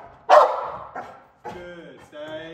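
A trained guard dog gives a loud, close bark followed by shorter, tonal yelps and whines, with a handler's voice mixed in during a business intruder-search exercise.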